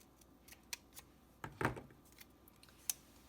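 Scissors snipping through planner paper, a few quiet, crisp cuts scattered over a few seconds, one fuller slicing snip near the middle, in a hushed indoor room with no talking.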